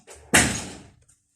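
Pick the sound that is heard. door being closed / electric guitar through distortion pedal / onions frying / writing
door being closed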